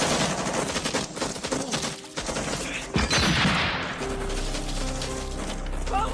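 Viet Cong guerrilla gunfire in a war film, a dense fusillade of rapid automatic shots and cracks, loud and close, followed by a sustained low rumble and ringing aftermath.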